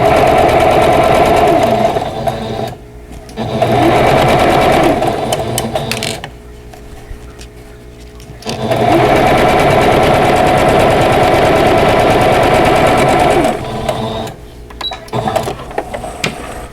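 A sewing machine stitches through thick layers of fabric while a quilt block is pieced, running in long loud rattling bursts separated by short pauses, close up with no talking.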